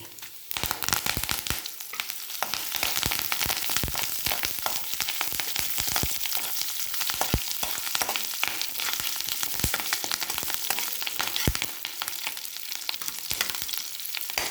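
Mustard seeds, cumin and dried red chillies crackle and fry in hot oil in a pan for a tempering, a steady close sizzle with scattered sharp pops throughout, no voices.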